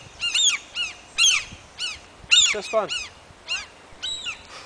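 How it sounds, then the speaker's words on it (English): Several seagulls calling outdoors by the coast in Norway, loud harsh yelping cries in repeated bursts, some overlapping, with a brief spoken remark among them. "Watch the seagull."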